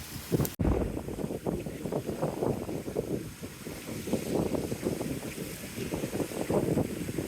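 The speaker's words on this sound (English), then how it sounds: "The wind is coming from the southeast." Strong wind gusting across the microphone aboard a sailboat rounding Cape St. Vincent off Portugal, a steady roaring rush with fluctuating gusts and a sharp buffet near the start, no voices.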